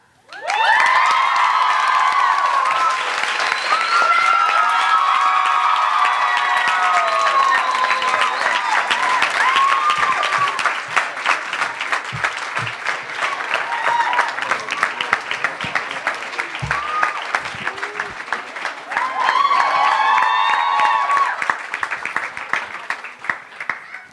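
A large, dense crowd applauds and cheers loudly at a live campus event, with whoops and shouts mixed in. The noise is sustained and close, swells again near the end, and continues for the whole clip.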